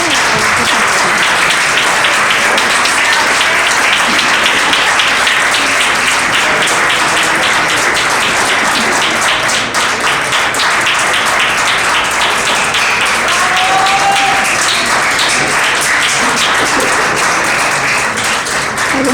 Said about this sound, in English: let's give Christopher a big round of applause